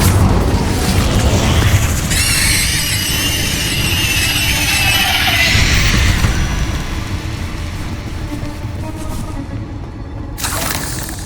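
Incendio fire spell cast in the Hogwarts Legacy video game: a loud, dense burst of roaring flame and crackling whoosh that sustains for several seconds, then trails off, with a sharp flare near the end.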